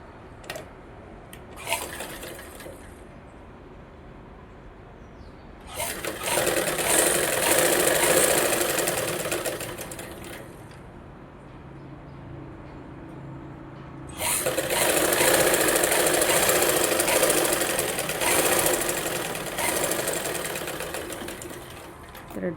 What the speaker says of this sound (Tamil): இப்படி திருப்பிட்டு இது மேலேயே ஒரு தையல் போட்டுக்கலாம்